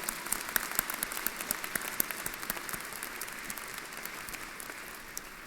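Steady applause from an audience at a university presidential inauguration ceremony, many hands clapping in a dense, even wash of sound with sharp individual claps poking through, continuing throughout.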